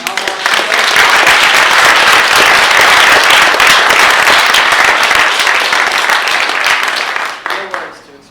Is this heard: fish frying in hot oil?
no